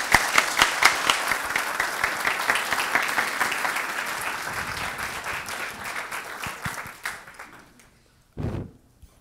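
An audience at an evening talk in Qatar applauds in welcome, with dense rapid clapping that starts strong, slowly thins and fades out near the end, followed by a single soft thump.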